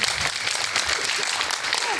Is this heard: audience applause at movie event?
yes